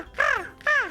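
A voice imitates crow caws, giving two loud, harmonic, downward-curving calls in quick succession, each about a third of a second long, with no other sound between them.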